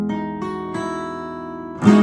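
A few strums of an acoustic guitar chord ring out close by, the strings sustaining between strokes before a louder final strum.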